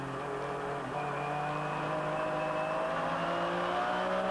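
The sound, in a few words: onboard Dick Barber Racing Porsche GT race car engine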